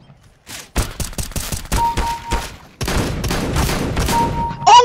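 Several sharp, close shots ring out in a CS:GO match, with a burst of heavier rapid firing in the second half and a short electronic tone near the end.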